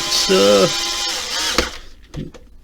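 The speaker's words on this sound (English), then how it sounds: "my little Torque screwdriver bit is kind of wearing out." A small torque screwdriver with a worn bit, used on a PS5 console, gives a brief high whirring buzz like a little drill, followed by close speech.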